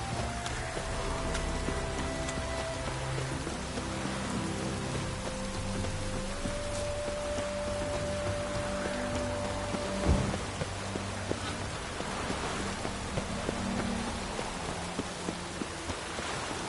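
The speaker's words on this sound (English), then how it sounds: "Looked like it would rain, and here it is." Rain falling in The Witcher 3: Wild Hunt, a steady wash of downpour with low rumbling thunder and a sharp crack partway through, alongside soft game music tones.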